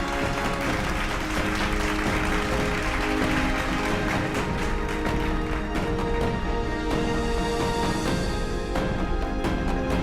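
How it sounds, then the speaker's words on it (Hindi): Dense, continuous applause from a crowd at a virtual winners' celebration for National Achievement Day fills the clip, loud and steady throughout with no pauses. "स्वागत करते हैं इन सभी लोगों का जोरदार तालियों से"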